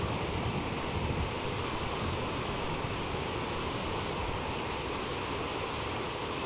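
Bombardier CRJ-700 jet engines in Microsoft Flight Simulator drone in a steady, dense roar with a thin high whine running through it, continuous and unbroken with no voices.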